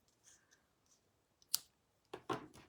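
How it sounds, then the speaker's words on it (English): Scissors trimming the ends of twine on a rustic handmade card, a few crisp close snips and clicks in otherwise quiet surroundings with no talking. "you can just trim the ends as you like to the length that you want to have them"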